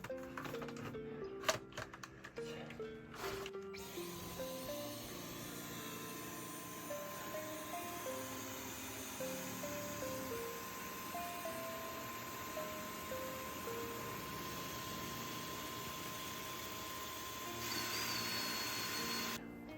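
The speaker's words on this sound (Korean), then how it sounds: "분진이 많이 나와서 청소기랑 같이 한번 해볼게요." A power screwdriver drives screws into a cork board used for mounting a staghorn fern, with short whirring bursts over the continuous steady hum of a nearby vacuum cleaner.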